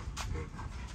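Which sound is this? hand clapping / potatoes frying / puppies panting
puppies panting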